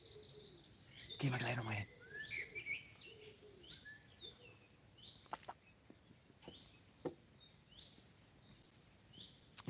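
Chaffinch, blackbird and wood pigeon sing far off in a quiet valley, scattered chirps and calls drifting under occasional nearby talking.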